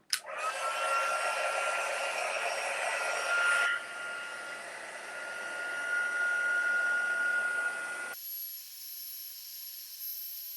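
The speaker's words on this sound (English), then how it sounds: "Then I have my heat tool." A heat embossing tool blows hot air onto a thank-you card in a steady, loud broadband whoosh with a faint whine, shifting in tone partway through and cutting to a thinner hiss near the end.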